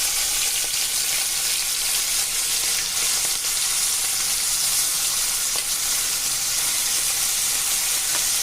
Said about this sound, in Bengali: কড়ার তেলটা গরম হয়ে গেছে, এবার আমি চিংড়ি মাছগুলো দেবো ভেজে নেওয়ার জন্য।